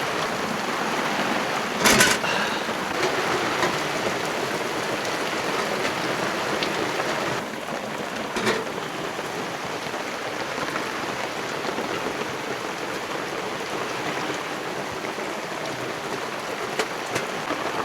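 Heavy rain pours down at a solo campsite amid strong winds, a dense, constant hiss of drops pattering on surfaces, with a few louder splashes and knocks along the way.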